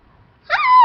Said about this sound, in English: It's my puppy, CJ.